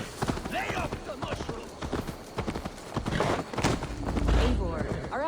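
Horse hooves clip-clop steadily in Assassin's Creed Valhalla, a close, continuous trotting rhythm with a brief whinny, heard beneath game characters' dialogue and background ambience.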